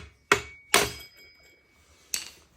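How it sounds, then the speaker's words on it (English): Three sharp metallic taps of a hammer on a wrench held underfoot to loosen a part on a chainsaw during brake and chain bar replacement, close and ringing, with pauses between strikes. "I normally put my foot down on the wrench with a hammer, just give it a gentle tap"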